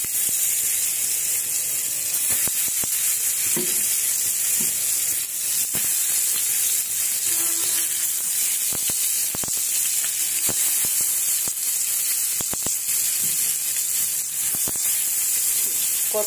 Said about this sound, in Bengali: বেগুন ভাজিটা বসিয়ে দেই